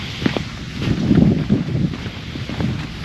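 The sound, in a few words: wind outdoors at a state park marina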